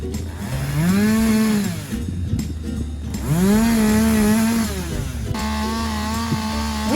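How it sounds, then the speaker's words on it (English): A chainsaw cuts down a tree outdoors with children nearby, its engine rising and falling in loud revving surges between steadier idling stretches throughout. "We got the tree cut down using our chainsaw."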